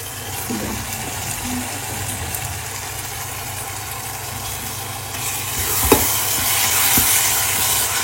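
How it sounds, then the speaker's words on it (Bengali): Chopped Malabar spinach tipped into a sizzling egg masala and stirred, a steady hiss of frying under occasional soft scrapes and a single sharper knock near the end. "এর ভিতরে এখন আমি কেটে রাখা পুঁই শাকটা দিয়ে দিই।"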